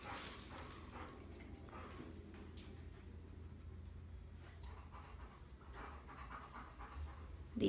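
A Kerry Blue terrier puppy pants steadily and close, a continuous rapid breathing rhythm with faint background noise and no talk.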